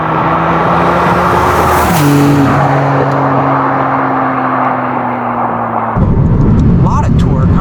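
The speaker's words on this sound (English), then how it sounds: "I love the noises of this new V6 behind us, a 3-liter twin turbocharged" Maserati MC20 with its 3-liter twin-turbocharged V6 in Corsa mode, a steady droning engine note whose pitch steps up mid-run, then a louder, rougher burst of revving near the end.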